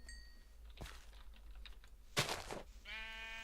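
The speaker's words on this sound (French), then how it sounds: "on va se faire les moutons" Sheep in a video game bleat once near the end, a clear harmonic call after scattered clicks and taps that sound like typing on a keyboard.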